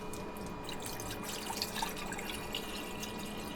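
Tap water runs into a container to be boiled, a steady close splashing and trickling stream with small drips scattered through it, alone without voices.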